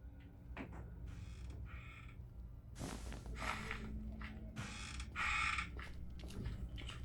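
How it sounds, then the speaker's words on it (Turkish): Creaking in the horror video game Granny 3: several drawn-out wooden creaks of doors and mechanisms, moderately loud, separated by short pauses with no talking over them. "Gıcırdamalar var çünkü bu oyunda."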